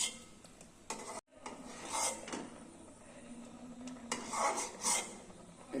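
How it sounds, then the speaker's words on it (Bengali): Spoon scraping and stirring Gobindobhog rice in milk in a pot for payesh, soft repeated rubbing and scraping strokes with occasional light clinks, close but quiet. "এখন সমানে নাড়তে হবে, সব সময় নাড়তে হবে"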